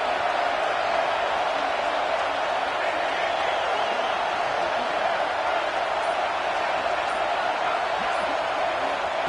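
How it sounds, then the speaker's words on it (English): A large football stadium crowd roars steadily at a season-opening game against Arkansas, a dense, continuous wash of cheering and noise that holds at one level throughout. "This crowd ready to make its presence known."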